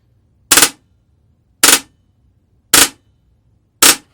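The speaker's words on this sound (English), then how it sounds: "Then you hold the trigger down, and you're going to get three round bursts, and they're each going to speed up a little bit" A Wolverine Airsoft Evolution airsoft gun fires four sharp, loud bursts in full-auto three-round mode, each rapid rattle spaced about a second apart against near silence.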